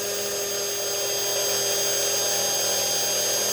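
A rotary drill bores a pilot hole into a crystal at low speed, giving a steady, continuous high whine with a faint hum, close and unbroken throughout with no talking.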